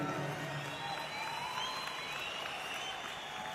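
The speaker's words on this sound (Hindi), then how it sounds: "मैं चाहूंगा उनके लिए जरूर एक जोरदार ताली बजानी चाहिए।" A conference audience claps loudly and continuously, a dense sustained applause with some crowd noise and no clear voices on top.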